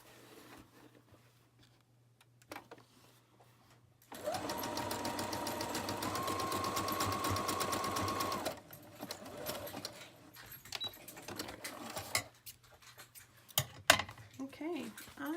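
A sewing machine stitching sari silk patchwork runs in one loud, steady burst of a few seconds, with a fast mechanical whirr and a held hum. Quiet handling noises and small clicks come before and after.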